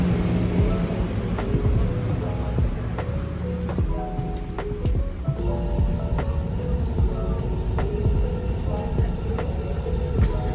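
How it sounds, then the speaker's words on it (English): A train moving along rails, likely arriving toward New York Penn Station, gives a steady rumbling roll with repeated clacks and squeal-like tones over about ten seconds, loud and continuous throughout. "I'm about to get on a train."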